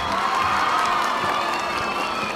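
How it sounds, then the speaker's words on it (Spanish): An audience of teachers at an education ministry event applauds and cheers in a dense, steady wash of clapping and shouting voices, loud and continuous throughout. "Ahora sí pueden aplaudir."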